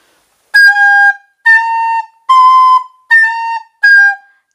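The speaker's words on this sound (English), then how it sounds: "It will sound like inconsistent tone, and it will sound like a broken, maybe like a cracking sounds." Recorder blown with forced breath, five short bright whistling notes with an unsteady, cracking tone, loud and close with silence between them.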